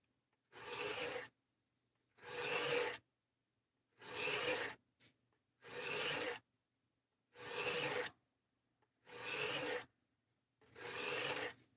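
A knife blade is drawn freehand across a multi-grit sharpening block, seven even, rasping strokes about a second and a half apart, each separated by silence, close and clear.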